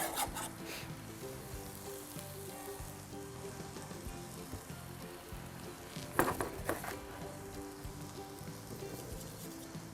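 Ground turkey and about a cup of onion frying in a skillet, a steady hiss of sizzling throughout with a brief louder burst of crackle partway through, no talking.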